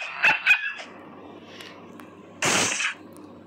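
A puppy in the Roblox video game barks twice in quick, loud succession, then lets out a longer, harsher burst of barking a couple of seconds later over quiet background noise.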